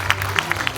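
Applause for wedding dress designers at a wedding fair, a brief burst of crowd clapping with scattered distinct claps, moderately loud and heard alone.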